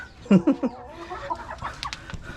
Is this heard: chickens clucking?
yes